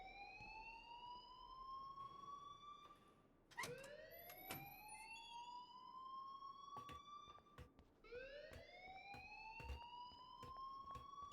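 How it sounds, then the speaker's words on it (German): A school fire alarm in the video game Life is Strange wails in repeated rising electronic sweeps, each climbing then holding before restarting, steady and moderately loud with faint clicks underneath. "please turn off that alarm since that's your job"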